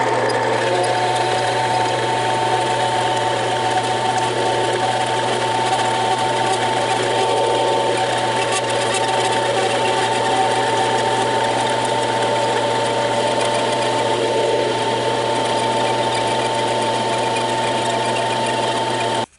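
A machine cuts a metal part in a workshop with a steady, loud mechanical whir and a constant low hum, running evenly and uninterrupted until it stops abruptly at the very end.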